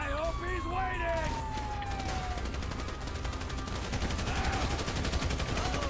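Rapid gunfire during a bank robbery shootout in the video game GTA 5, repeated sharp bursts over a wailing siren-like tone and game noise, with a voice talking over it.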